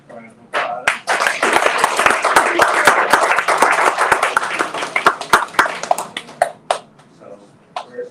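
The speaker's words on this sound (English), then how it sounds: "So give you all a round of applause." A small group claps in a loose, close round of applause at a summer program wrap-up. Individual sharp claps stand out as it builds, then it thins into scattered final claps with a few voices mixed in.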